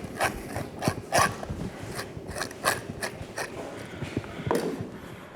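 A knife scrapes the bloodline out of a gutted salmon in a series of rough, rasping strokes, steady and close, with no talking.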